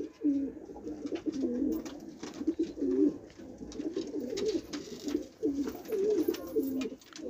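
Tumbler pigeons coo at close range in repeated low, throaty rolling phrases, several overlapping calls that carry on continuously with brief pauses.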